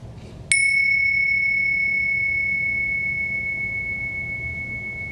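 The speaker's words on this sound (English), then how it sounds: "I'll just ring some bells" A single meditation bell is struck once, giving a sharp bright onset followed by a clear sustained ring that slowly fades over several seconds in a quiet room, with no voices.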